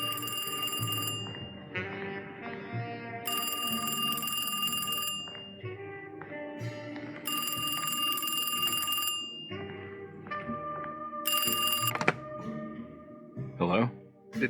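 A telephone rings in the 2024 video game Alone in the Dark, with loud bell-like bursts repeating every few seconds over a continuous musical score, and a voice speaks near the end.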